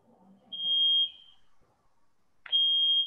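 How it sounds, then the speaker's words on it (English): A building fire alarm gives two loud, steady high-pitched tones, each about half a second long, with a short gap between them. Faint low murmuring comes before the first tone. "That's a fire alarm."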